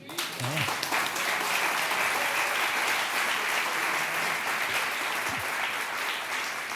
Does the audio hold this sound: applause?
yes